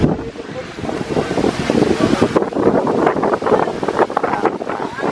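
Strong gusting wind buffets the microphone on Guyam Island, a loud continuous roar that swells and dips, with surf-like rumble underneath.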